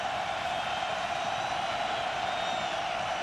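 Continuous roar of UConn Huskies fans in the stadium during a college football game against South Florida, loud and even throughout with scattered whoops.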